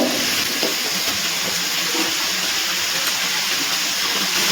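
Steady loud sizzle and hiss of pumpkin pieces frying in hot oil alongside Malabar spinach stalks, a continuous bright crackle with no talking.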